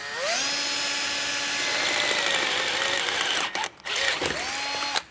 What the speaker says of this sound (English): And now we can drill this out.